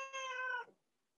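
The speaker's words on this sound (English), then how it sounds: "the cat has something to say about that." A house cat gives a single clear, fairly loud meow lasting about half a second, close by and alone, then quiet follows.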